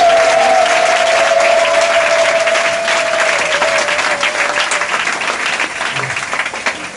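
A church congregation claps and cheers loudly for several seconds in a dense, sustained wash of applause, with a sustained tone ringing through it and the clapping easing slightly toward the end.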